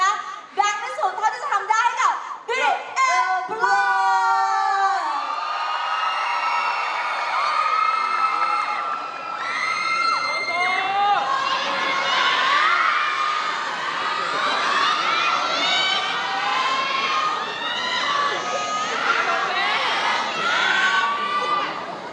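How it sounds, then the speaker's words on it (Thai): An audience at a megacrew dance competition prelim screams and cheers loudly, with sharp shrieks and whoops at first, then a sustained roar of shouting and cheering that carries on to the end. "ขอเสียงกรี๊ดดังๆเล"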